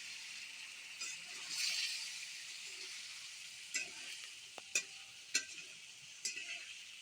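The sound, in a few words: stirring and mixing frying tomatoes and green chilies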